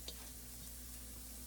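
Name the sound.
ground meat sizzling in a pan for Bolognese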